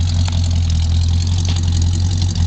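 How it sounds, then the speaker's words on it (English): A 1966 Plymouth Satellite convertible idles through its new exhaust, giving a steady, close, deep burble with no talking. "this is what the exhaust sounds like."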